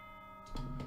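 Two-note ding-dong announcement chime from the Danganronpa: Trigger Happy Havoc video game, a soft bright tone followed by a second, ringing out briefly and alone over a faint steady hum.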